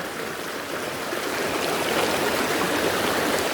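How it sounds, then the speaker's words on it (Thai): Strongly flowing stream water rushing steadily at a tent campsite at Suan Lung Phon, Khlong Maduea, Nakhon Nayok, a dense continuous roar close by with no voices. "เพราะว่าน้ำมันไหลแรงอยู่นะฮะ"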